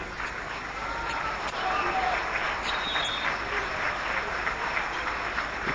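Sustained applause from an audience at a university speech, steady dense clapping that fills the whole stretch, with some crowd noise and voices mixed in.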